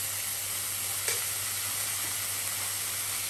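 Bean sprouts stir-fried with oyster sauce in a hot pan give a steady, close sizzle and hiss, with a light scrape of stirring and no talking.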